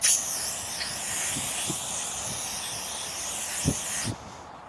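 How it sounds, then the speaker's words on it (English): A continuous hissing spray of window cleaner from an aerosol can, steady for about four seconds before cutting off, with a few faint knocks underneath. "Give it a good shake and then spray an even coat"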